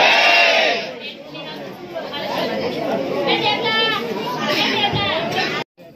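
Dense crowd of pilgrims at Pavagadh temple, a continuous loud murmur of many voices with children and occasional shouts, close and enveloping, cutting off abruptly near the end.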